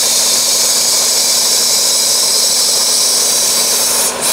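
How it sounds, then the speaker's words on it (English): Air compressor inflating a five-foot hanging corpse Halloween prop, a loud, constant close hiss and motor roar that runs unbroken and cuts off right at the end. "I'm going to use a compressor."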